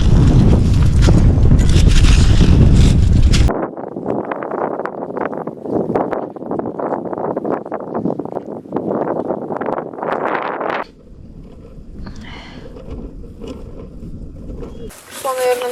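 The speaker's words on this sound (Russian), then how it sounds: "и, как видите, сильный ветер довольно" Strong wind roars across open ice during ice fishing, a loud broadband buffeting on the microphone at first, then gusting under steady talking before easing into quieter shelter.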